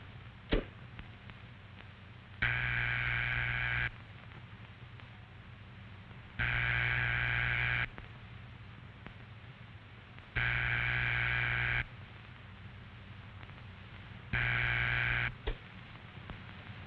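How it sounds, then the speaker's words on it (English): A 1940 telephone ringback tone repeats four times, each buzzy tone lasting about a second and a half and separated by roughly two and a half seconds of near-silence. "That's the ringing signal."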